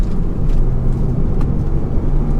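A Porsche 996 engine accelerating away from a roundabout drones loudly and steadily up close, a low throaty hum with no speech over it.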